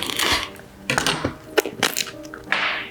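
A Victorinox 12-inch bread knife saws through a loaf's crust in a few close, crisp crunching strokes, each rasp separated by short pauses.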